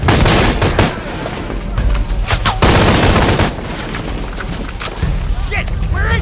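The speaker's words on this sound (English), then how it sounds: "I'll shoot through that wall." Dense, loud gunfire in the action game Shadow of the Tomb Raider, rolling bursts and booms packed into a near-continuous barrage, with shouted voices mixed in.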